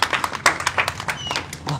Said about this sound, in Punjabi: ਆਪਣੇ ਵੀਰ ਵਾਸਤੇ ਤਾੜੀਆਂ ਮਾਰ ਦਿਓ